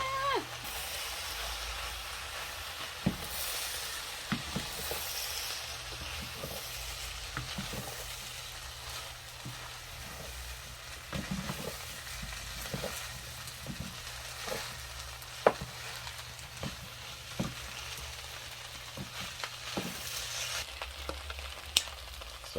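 Fried rice seasoned with soy sauce sizzles steadily on a hibachi griddle, with a constant frying hiss broken by frequent sharp scrapes and taps of a spatula.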